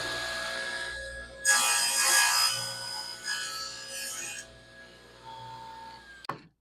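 Delta table saw cutting through a wood workpiece: a loud burst of blade-on-wood rasping over a steady motor hum, then a brief second cut and a sharp click at the end.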